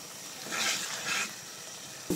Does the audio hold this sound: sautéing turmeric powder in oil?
yes